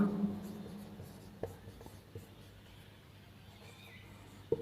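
Marker or chalk writes on a board during a commerce class on journal entries, faint scratchy strokes with a few sharp taps in a quiet room, with a voice speaking softly at the start.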